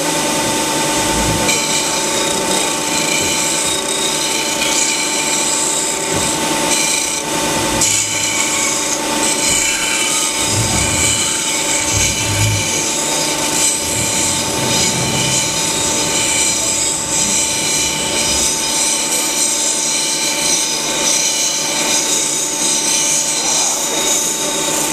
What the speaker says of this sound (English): you'll use the sander here, and you have to rotate back and forth